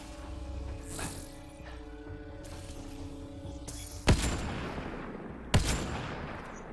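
Gunfire in the video game Mass Effect: Andromeda, two sharp loud shots a second and a half apart, each with a ringing decay, over a steady low engine-like hum.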